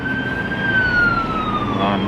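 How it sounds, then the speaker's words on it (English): A siren tone sweeping slowly downward in pitch, steady and fairly loud, over a low background rumble. "siren"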